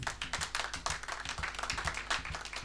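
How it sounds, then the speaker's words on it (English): Audience clapping at a 35th-anniversary celebration event, a steady patter of hand claps continuing close by for the whole stretch without speech. "You can clap to them."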